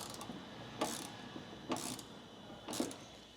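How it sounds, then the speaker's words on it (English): A 7/16 wrench tightens the bolt of a WeatherTech mud flap on a 2023 Ford F-150, making three evenly spaced sharp ratcheting clicks against a quiet background. "We're using a 7/16 wrench today."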